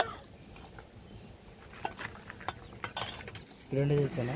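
Washed chicken being mixed with spices by hand in a bowl, giving soft wet stirring and scattered light clinks against the dish, with a brief louder burst of handling near the end.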